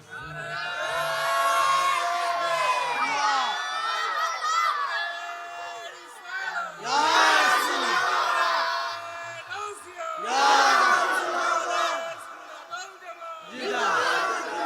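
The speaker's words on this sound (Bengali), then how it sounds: "জোরে একটা তাকবীর হবে জোরে" A large crowd at an outdoor Islamic religious gathering in Chatiyani, Comilla roars takbir in loud unison, several swelling waves of massed chanting voices rising and falling, with a lone voice leading between the surges.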